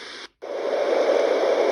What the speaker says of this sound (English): That one sounds more like wind or something.